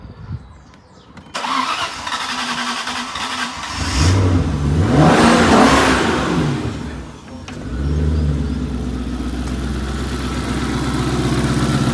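A 2002 Maserati 3200 twin turbo cranks and fires up, then revs loudly in a rising and falling swell before settling into a steady, fairly loud idle.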